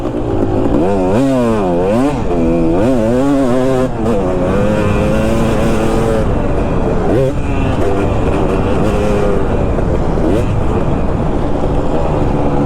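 Two-stroke dirt bike engine at speed: a loud, buzzing, nasal wail that rises and falls in pitch as the throttle is worked, close and constant, with a rider talking over it.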